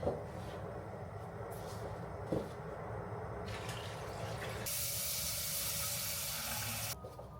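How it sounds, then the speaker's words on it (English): Boiled water is poured out of a pot into a home kitchen sink, first a soft splashing trickle, then a loud steady rushing stream for a few seconds that cuts off abruptly, with no voices. "Let me pour the water out."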